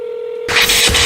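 A phone dials out: a steady tone first, then a quick burst of loud keypad tones right up close.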